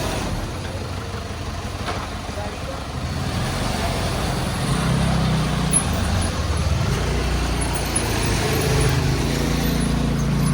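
A Toyota Fortuner squeezing through a narrow lane, heard as a steady low engine rumble with surrounding road noise that swells slightly midway and holds constant to the end.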